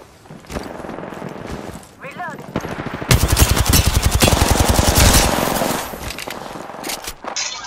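Loud automatic gunfire in the battle royale game Apex Legends, rapid continuous bursts hammering up close through the middle of the clip, surrounded by quieter game effects and some talk.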